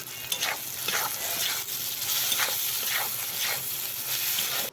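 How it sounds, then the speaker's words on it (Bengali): Steady close sizzling and stirring as spice paste fries with potato and eggplant in oil, a continuous hiss with rhythmic scraping strokes and no voices. "দেখো মশলাটা ভালো করে কষা হয়ে গেছে আলু বেগুনের সাথে"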